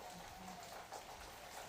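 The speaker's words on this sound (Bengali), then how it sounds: "বৃষ্টি হচ্ছে, দেখো" Steady rain falls outside near a kitchen and a coconut tree, a soft continuous hiss of drops on surfaces, faint and even throughout.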